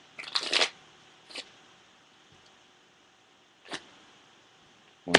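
Brief bursts of cards being riffled and snapped, a short flurry followed by a few isolated crisp flicks separated by quiet pauses.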